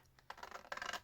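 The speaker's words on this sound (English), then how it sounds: "I'm just going to whiz around with my scissors" A few quick snips of scissors cutting paper, short crisp bursts close by, quiet and alone.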